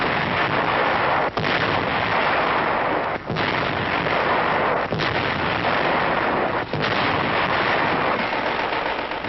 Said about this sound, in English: Before long, the big guns are ready to go into action and pound the Hun.